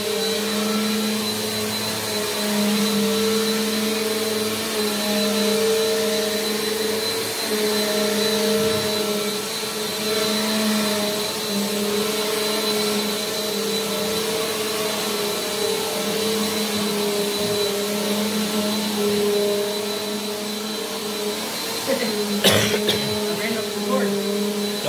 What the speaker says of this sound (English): it's got agitation. That's what you're hearing going on the carpet.